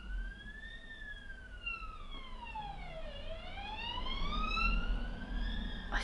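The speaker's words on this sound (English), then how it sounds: "I swear I always get the sirens in my videos." A siren wails steadily, sweeping down and back up in pitch, sounding from a moderate distance over a quiet background.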